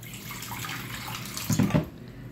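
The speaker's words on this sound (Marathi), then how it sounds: "मी पाणी जास्तच घालते" Water poured into a mashed baby food mixture, a soft continuous trickling with a brief louder gush near the end, fairly close and without speech.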